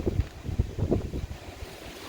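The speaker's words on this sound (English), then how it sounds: "and when the gusts come, it gets incredibly windy." Gusty wind from Hurricane Lee buffeting the microphone, a heavy low rumble that swells and surges in irregular bursts, loud and close, with no voices.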